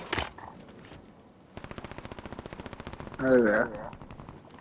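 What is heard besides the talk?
gunfire in Call of Duty video game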